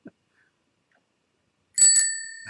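A bicycle bell rings sharply after a quiet pause, two quick metallic dings with a bright ringing tail that fades out.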